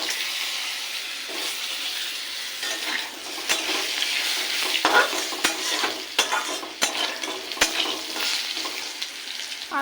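Potatoes fry in oil tempered with cumin, a loud, close sizzle broken by sharp clacks and scrapes of a spatula stirring them in the pan, with no voices.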